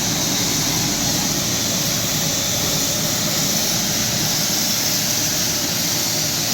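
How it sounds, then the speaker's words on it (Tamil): Ooty toy train steam engine starting up and releasing steam, a loud, steady broadband hiss that runs unbroken and close for the whole stretch, with no talking. "இப்போ ஸ்டீம்லாம் ஃபுல்லாக வெளியே போகுது பார்த்தீங்களா"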